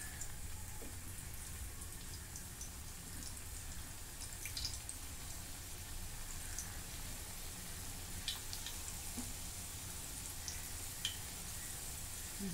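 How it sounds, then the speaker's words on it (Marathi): Coriander vadis fry in medium-hot oil, giving a steady soft sizzle with occasional small pops and crackles, fairly quiet and continuous with no talking. "आता एक बाजू चांगली तळून घेते"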